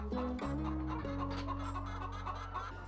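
Free-range chickens cluck inside a large barn, a layered flock chatter with overlapping calls and a steady low hum underneath, loud and close throughout.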